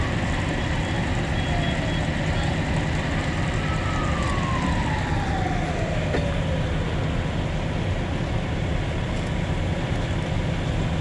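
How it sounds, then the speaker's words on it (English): Distant emergency vehicle sirens at a house fire wail faintly, rising and falling, beneath loud constant rumbling noise. "I hear more sirens, by the way."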